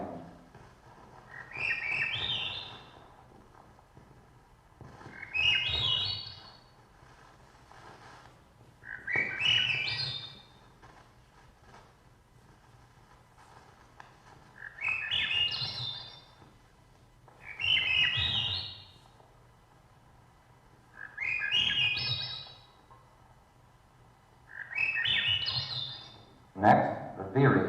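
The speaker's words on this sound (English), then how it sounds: "First, an olive-backed thrush sings." An olive-backed thrush sings a series of seven spaced, rising fluty phrases, each spiralling upward, recorded by Cornell's ornithology lab in the North Woods over a faint low background hum.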